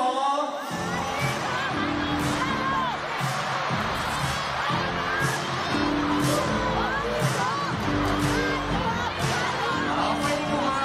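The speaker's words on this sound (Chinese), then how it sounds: "现在让我们用最热情的掌声，最大的尖叫声，欢迎我们的月华娱乐 CEO 杜华女士" Studio audience at a live entertainment company anniversary show cheers, screams and whoops to welcome the company CEO on stage, a loud dense crowd roar sustained throughout with music underneath.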